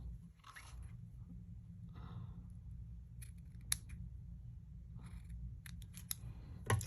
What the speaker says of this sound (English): I'm going to grab my scissors and I'm going to snip.